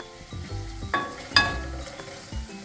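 Onions fry in a pan as a spatula stirs them, giving soft scrapes and a few sharp metallic clinks and knocks over a low sizzle, close up with no talking.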